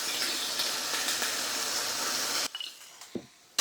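Water poured from a cup into a pan of browned hamburger and homemade taco seasoning, a steady hissing gush close by for about two and a half seconds, then stopping with a few small sizzles and clinks.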